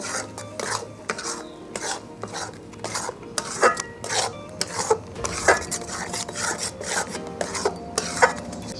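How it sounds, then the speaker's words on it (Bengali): A spoon scrapes and stirs a thickening chickpea dal paste with cabbage in a pan, making a steady rhythm of close, rasping strokes with light clinks against the metal. "দেখুন এটা নাড়তে নাড়তে এরকম শক্ত শক্ত হয়ে গেল"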